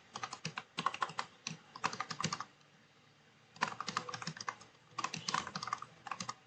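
Bursts of close, fast computer-keyboard typing while a project name is entered in Katalon Studio, with a brief pause in the middle before the tapping resumes.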